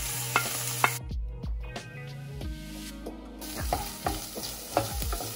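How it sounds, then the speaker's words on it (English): Chinese sausage and other ingredients for sticky rice being stir fried in a pan, a loud close sizzle broken by repeated scraping and clanking strokes of the spatula, with a brief quieter gap partway through and no voices. "And then we can just add the rest of the ingredients and stir fry it."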